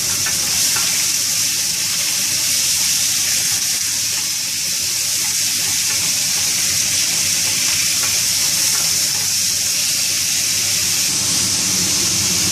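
Food sizzles loudly and steadily in a hot pan while it is stirred, a constant close frying hiss that carries on without a break.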